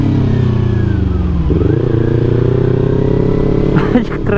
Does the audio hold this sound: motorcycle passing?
yes